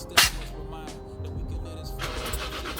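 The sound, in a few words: Toyota JZX100 car engine starting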